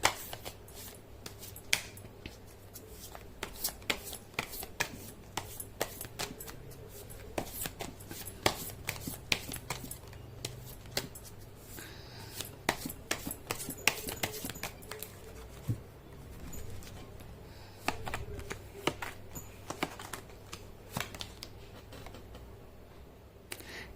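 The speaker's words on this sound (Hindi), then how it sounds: "मैं कर लेती हूँ कार्ड की शफलिंग।" Tarot cards being shuffled by hand, a long run of light papery flicks and taps close by, irregular and quiet, with no voices.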